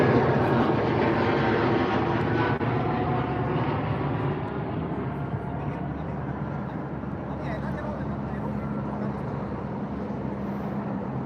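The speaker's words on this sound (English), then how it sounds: "KLM with the Embraer" A KLM Embraer E195 airliner departing London Heathrow gives off a strong jet roar at first that gradually recedes and fades into a softer rumble.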